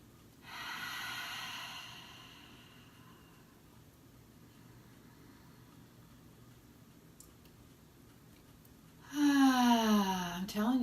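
Deep breathing, a long airy inhale at the start, then a quiet stretch and a loud, forceful exhale at the end, close up with no talk.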